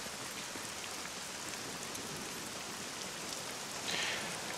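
Steady rain falls in the survival game SCUM as a dense, even hiss of drops on surfaces, continuous and moderately loud with no voices.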